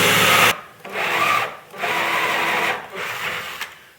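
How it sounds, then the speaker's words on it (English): A drill bit bores through wood in a woodworking shop, making a steady grinding whir in long bursts with brief pauses between them, loud and close. "Now I'm following the same path the bit did when it drilled through here."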